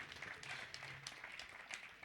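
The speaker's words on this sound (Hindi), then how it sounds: "ओम बहुत सुंदर जोरदार तालियों के साथ आज के इस मंगलाचरण के लिए।" Faint, distant applause from a gathering at a Digambar Jain temple, a soft, even clatter of many hands.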